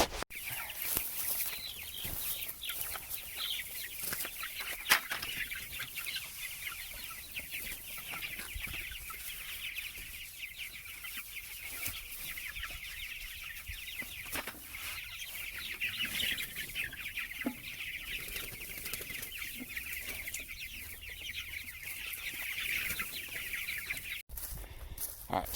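Backyard chickens cluck and chatter continuously as they are fed, a busy flock murmuring close by with occasional louder squawks throughout.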